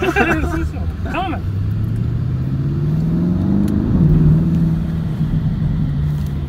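A sedan's engine revs at the Le Mans circuit, a loud rumble sweeping upward in pitch, easing briefly, then holding, close by and partly under people talking.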